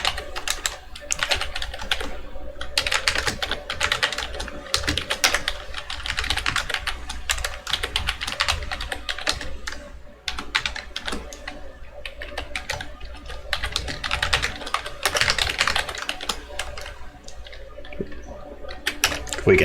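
Steady computer keyboard typing runs throughout, dense bursts of clicking keystrokes close to the mic with brief pauses, no voices.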